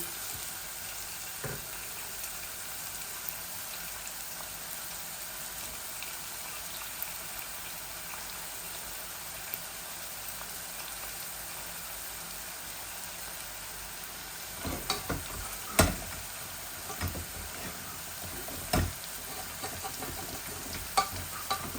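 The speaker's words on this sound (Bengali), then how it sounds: "পেঁয়াজগুলো একটু লাল লাল হয়ে যাক, ভাজা ভাজা হয়ে যাক" Onions frying in a pan, a quiet, continuous bubbling hiss that holds steady throughout, with scattered soft clicks and pops toward the end and no speech.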